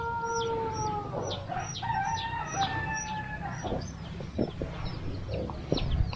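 Roosters crow in long drawn-out calls while chickens cluck in short bursts, in a hilltop village. Several birds sound at once, near and far, over a low background hum.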